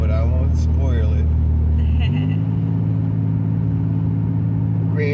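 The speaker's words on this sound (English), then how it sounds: "Riding around in Grandpa's truck." A pickup truck's engine hums low and steady from inside the cab while riding through rainy streets, shifting to a new gear partway, with people talking over it.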